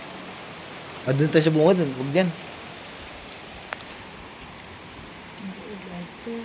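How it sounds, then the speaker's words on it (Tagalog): Steady hiss of falling rain at Obando Cemetery fills the background while a voice speaks briefly near the start, followed by a faint tap. "Umuulan po."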